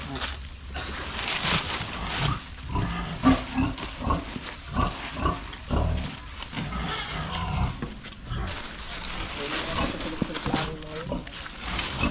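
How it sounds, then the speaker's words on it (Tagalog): Pig grunts mixed with steady outdoor noise in an open rural area, heard throughout and close by, while people talk over them. "May baboy dito."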